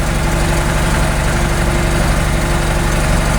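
A White 4-175 tractor engine idles steadily and loudly up close, a constant low rumble with a fine rhythmic throb and no voices over it.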